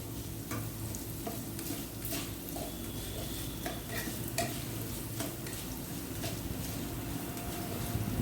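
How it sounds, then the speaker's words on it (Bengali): Carrots fry in a pan on a gas stove, a quiet steady sizzle broken by light stirring scrapes and small clicks, heard alone at low volume. "বন্ধুরা, আমার গাজরটা কিছুটা ভাজা হয়ে গেছে।"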